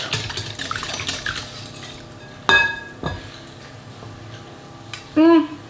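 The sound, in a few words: mixing eggs into yogurt in a bowl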